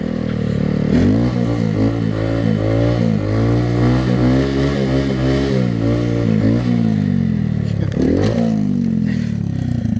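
A Honda Grom motorcycle drifts on a snowy street in Sweden, its small engine revving hard and warbling up and down in loud, sustained bursts close by, with voices mixed in.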